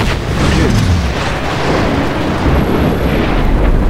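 A massive explosion in the video game Just Cause 3 rolls out as a loud, dense, continuous roar and rumble that fills the whole moment without fading.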